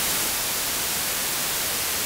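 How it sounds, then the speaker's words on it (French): A modular synth noise generator routed through a filter puts out steady, unbroken white noise, a flat broadband hiss that holds at an even level for about two seconds. "Voilà mon bruit blanc."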